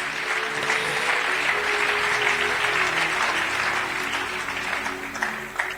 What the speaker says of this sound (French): On acclame le Seigneur pendant qu'il se déplace.